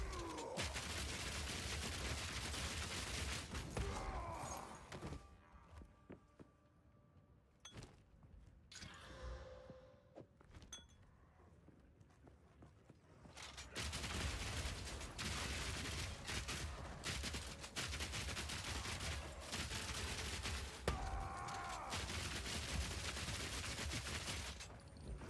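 Crossbow bolts fire in rapid, dense volleys in the video game Path of Exile 2, with loud sustained bursts, a quieter lull in the middle, then heavy firing again under game rumble.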